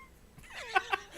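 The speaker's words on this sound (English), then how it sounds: "We got a meow on microphone." A cat meows close to a live-stream microphone, two short, bright mews in quick succession over faint background noise, with no speech.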